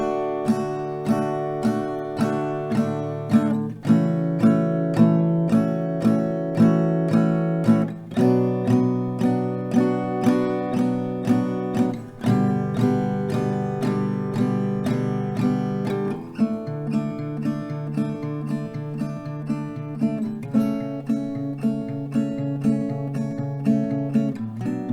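Acoustic guitar chords strummed with steady downstrokes, a regular rhythm of even strums ringing out close and clear, changing chords every few seconds.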